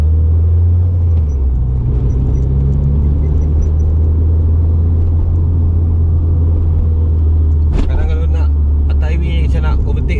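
A Mitsubishi Evo 3 CE9A turbo engine pulls under boost from inside the car, a loud, steady low drone and rumble that carries throughout, with someone talking over it and a short burst of sharper noise near the end.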